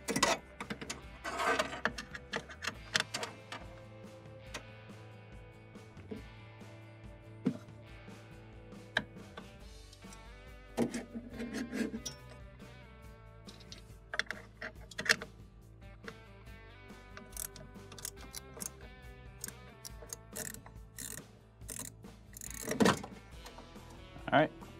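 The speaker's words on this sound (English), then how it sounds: "I'm gonna use just a ratcheting wrench with a 1/4-inch bit on it" A ratcheting wrench with a 1/4-inch bit removes a screw from a refrigerator ice maker's condenser fan motor, producing bursts of quick mechanical clicks and taps, close and fairly quiet, with someone talking over parts of it.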